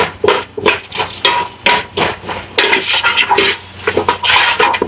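Onions frying for a lamb curry are stirred in a pan over medium heat, the spoon giving loud, close, repeated knocks and scrapes in an uneven rhythm with no talking.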